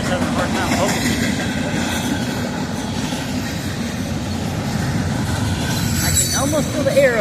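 Close up, a southbound evening train keeps thundering by with a dense, continuous roar of wheels on rail, brief squealing tones near the end, and a voice talking intermittently over the din.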